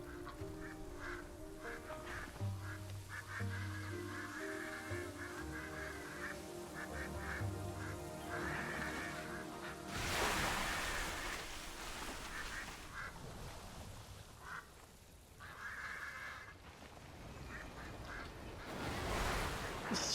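Waterfowl quacking in the World of Warcraft Dragonflight game, heard over looping fantasy game music, with splashy water-elemental attack effects bursting in louder near the middle and end.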